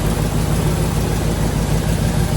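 A 1972 Corvette with a 454 engine idles at about 780 RPM, a loud, close, deep rumble with a steady, lopey pulse and no voices over it.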